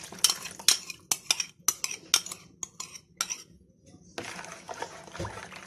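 A spoon stirs yeast into milk in a bowl, giving quick quiet clinks and scrapes in an irregular rhythm, then a brief rustle.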